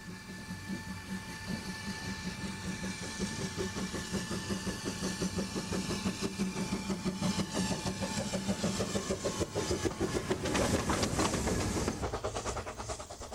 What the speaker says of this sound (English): The railway provides a 12-mile journey by a narrow-gauge steam train through picturesque wooded glens and wide green valleys.